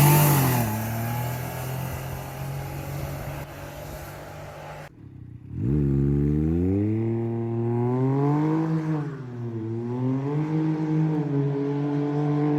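Can-Am Ryker fitted with a Treal Performance race exhaust, baffle installed, fires up after a steady running drone and brief pause, then settles into a loud, close idle with a couple of rising-and-falling revs.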